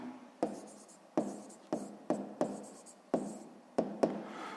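Equation written by hand during a sixth-grade maths exercise, heard as a series of about eight sharp pen or chalk strokes, each a quick tap trailing into a scratchy drag, close and fairly quiet, with no talking.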